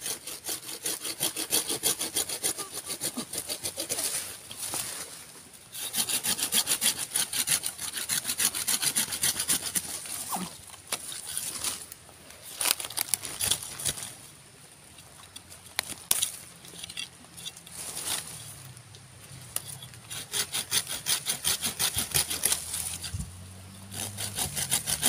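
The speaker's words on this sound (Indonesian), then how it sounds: "Oke, sekarang coba saya gergaji dulu," A hand saw cuts through santigi wood in long, steady back-and-forth strokes, close and rasping, with a few short pauses between runs of sawing and no voices.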